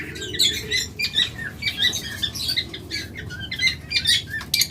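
A pair of green-winged lovebirds in a cage chirps rapidly in sharp, bright bursts, with wings fluttering and feet scuffling close by and no one talking.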